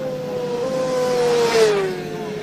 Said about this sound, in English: It's a 600cc GSXR motorcycle engine in that little car that looks like a robot for Mars.